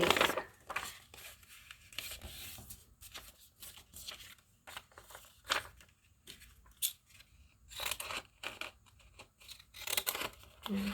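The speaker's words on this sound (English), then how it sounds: "and again, just kind of using these scissors," Scissors snip through paper while making book signatures, a series of quiet, crisp cuts in irregular bursts with brief pauses between, close to the listener in a calm room.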